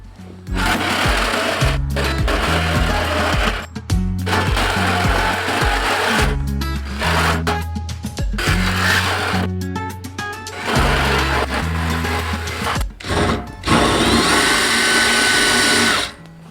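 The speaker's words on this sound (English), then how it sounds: "So now I'm just coming through and I'm hitting them with the drill bit through the holes that are there" A drill bit bores through pre-marked holes in a wet metal barrel being built into a maple evaporator, a loud sustained whine that cuts off and restarts in repeated bursts with short pauses between passes.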